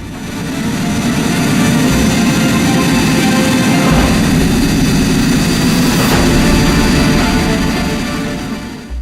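The engine of a Hürjet jet trainer aircraft runs with a loud, steady roar and hiss that holds unbroken from start to finish.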